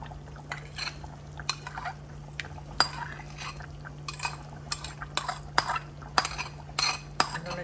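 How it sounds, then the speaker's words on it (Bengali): A spoon stirs pickle into meat curry in a pot, giving irregular close clinks and scrapes against the metal over a low steady hum, with no talking. "আচারটা এখন ঢেলে আর একটু নেড়ে ঢাকনা দিয়ে রাখো"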